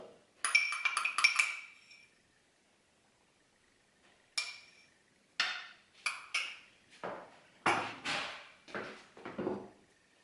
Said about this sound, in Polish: Do naczynia żaroodpornego Przekładam smalec.